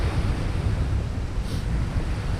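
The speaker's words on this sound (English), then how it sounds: "this headwind coming straight off the sea" A strong headwind blows straight off the sea at night on the Bexhill shore, a steady close buffeting roar across the microphone mixed with surf rumble, with no talk.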